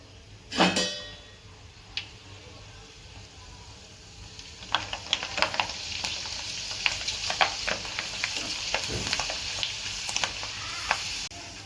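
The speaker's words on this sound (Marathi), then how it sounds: "तर आता दुसरी पण घालते मी तेलामध्ये कुरडई" Semolina kurdai frying in hot oil, a steady sizzling hiss with crackling pops growing busier and denser as the batch cooks, preceded by a sharp splash-like burst near the start; no talking.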